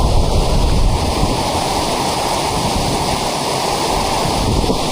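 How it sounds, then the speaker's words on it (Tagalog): Very heavy rain pours down in Santa Rosa, Laguna, a dense, steady roar of water that stays loud and unbroken from start to finish with no voices over it. "Sobrang lakas talaga ng ulan."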